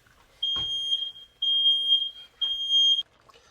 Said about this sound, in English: My smoke alarm just went off